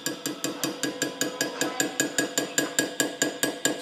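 Light hammer taps on a hand engraving chisel cutting into metal, about twenty crisp, evenly spaced metallic ticks in a quick steady rhythm, close and clean with no talking.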